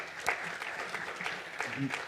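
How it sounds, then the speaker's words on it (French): An audience at a conference talk on redesigning a web application with no-code tools claps steadily for a couple of seconds, the applause fairly quiet and even, with some voices mixed in. "Vous pouvez là aussi les encourager par vos applaudissements."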